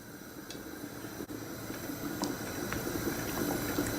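A pot of chicken sauté stew with garlic bubbles at a steady simmer, a soft continuous hiss with faint pops, close by and gentle.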